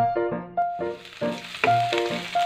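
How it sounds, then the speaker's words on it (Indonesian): Garlic sizzles and crackles in a small amount of hot oil in a pan for a mushroom dish, with a steady frying hiss broken by repeated clinking stirs of a utensil. "kita goreng dulu nih sampai harum kekuningan ya"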